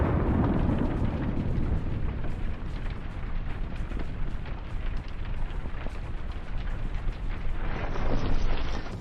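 A drone-filmed explosion destroys a Russian tank, tearing out the turret and throwing it high; a loud, sustained broadband roar and rumble fills the whole stretch without a break.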